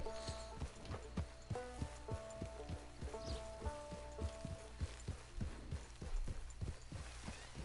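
Horse hooves clip-clop in a steady walking rhythm in Red Dead Online, crisp regular knocks under quiet background game music, with faint rustling between steps.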